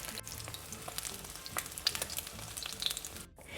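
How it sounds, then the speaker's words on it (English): Food fries in a pan with a continuous crackling sizzle, faint and close, with scattered pops and one short gap near the end. "just fry them to your desired doneness"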